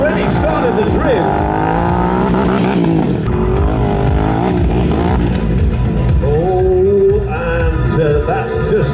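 A drift motorcycle with an extended swing arm revs hard while sliding, its engine whining up and down in loud, sweeping pitch changes, with a commentator talking over it.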